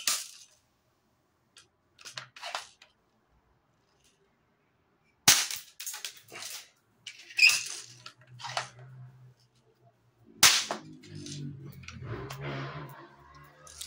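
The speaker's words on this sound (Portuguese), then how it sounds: "vou fazer aqui uns disparos no alvo de papel ali que eu coloquei ali na frente para vocês verem o funcionamento" A 3D-printed slingshot fires several shots at a paper target, each a sharp snapping crack with a faint clatter after it, spaced irregularly between quiet gaps, with mechanical rattling near the end.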